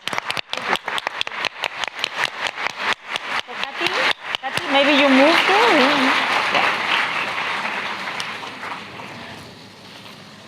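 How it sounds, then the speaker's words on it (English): At a women's conference panel discussion, a few spaced, rhythmic hand claps build into full, dense audience applause that gradually fades, with a voice speaking briefly over it. "Please give us a round of applause."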